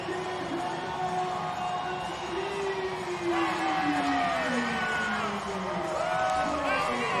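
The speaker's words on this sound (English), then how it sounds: "Listen to that crowd going over to the supporters section" A football crowd roars steadily after San Antonio scores to take a 3-0 lead in a USL Championship match, a dense, sustained swell of cheering with rising whoops throughout, loud and continuous.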